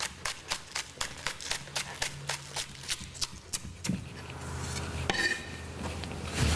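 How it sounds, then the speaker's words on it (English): Spring onions chopped on a board, white parts thin and greens coarser: rapid, evenly spaced knife taps ring out close by, then give way to a brief scrape and a soft background hum. "I'm going to chop the white really, really thin, and then as I get towards the green, we're going to open the knife out a little bit and chop it a little bit bigger"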